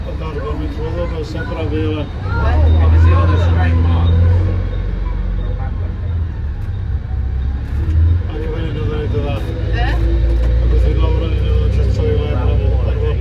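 A Plaxton sightseeing bus squeezes through a narrow town-wall archway in Conwy, its engine rumbling low and swelling as it passes, under a tour guide's steady recorded commentary and faint passenger chatter.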